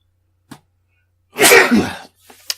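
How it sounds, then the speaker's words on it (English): A single loud, wet sneeze bursts out after a quiet pause, with a faint click before it and a small breathy sound just after. "I'm going to sneeze."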